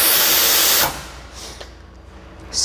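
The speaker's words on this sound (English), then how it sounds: "when you want to release steam continuously, you just take it down" Espresso machine steam wand blasting a loud, continuous hiss of steam that cuts off abruptly, followed by quieter short puffs and a final brief burst, with no talking.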